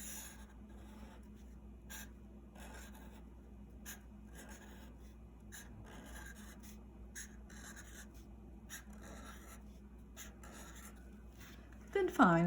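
A pen draws the outlines of ferry windows on paper, giving soft, faint scratching strokes in short bursts against quiet room hiss, with a louder rustle at the very end.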